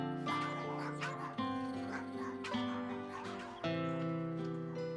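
Several dogs at a shelter bark and yip loudly in overlapping bursts, some whimpering and tonal howls mixed in, close and continuous throughout.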